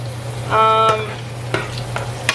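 Pork chops fry in a pan with a steady low sizzle under a constant hum, broken by a few sharp clinks and scrapes.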